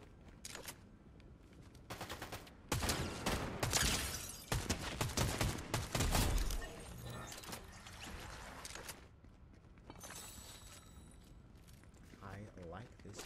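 Fortnite gunfire rattles in rapid bursts, a dense stretch of close shots in the middle with sparser shots and mechanical clicks before and after, under a player's intermittent speech.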